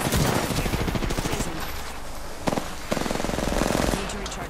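Rapid automatic gunfire in the video game Apex Legends, dense bursts of shots close and loud with a brief pause, mixed with game sounds and voices talking over it.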